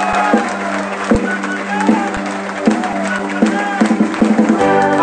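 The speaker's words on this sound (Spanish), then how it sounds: "Fuerte ese aplauso para Darío Chaparro." At a political rally launch, the crowd applauds and cheers for a candidate over loud rally music, with percussive thumps and a busy, mixed crowd noise.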